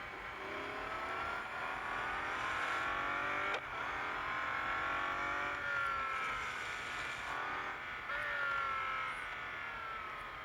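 A Koenigsegg Agera RS engine in a racing video game drones at high revs with gear-shift dips and rising pitch sweeps, loud and continuous for ten seconds.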